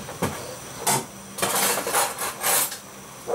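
Utensils scraping and clinking against a bowl while spicy paprika and other spices are mixed for a cured pork loin recipe, a few short separate bursts of rubbing and scraping, close and moderately loud.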